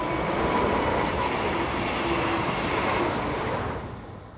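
A BLS Class 515 KISS electric passenger unit runs on the Thun–Kandersteg line in Switzerland, a steady broadband rumble and rail roar that holds for several seconds and then fades away at the end.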